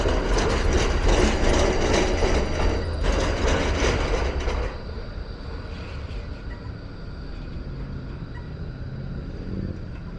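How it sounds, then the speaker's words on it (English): A passing tram makes a train-like rumble with broadband clatter, loud for the first four seconds and then easing to a steadier, quieter roar as it moves away. "Tram going through the red lights"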